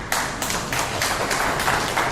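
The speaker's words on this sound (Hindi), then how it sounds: "कृपया ताली बजाते रहिए" Steady applause from an audience at a railway staff member's retirement ceremony, dense continuous clapping held at an even level throughout.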